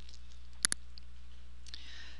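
Two quick, crisp computer mouse clicks close together, faint and near against a quiet room hum.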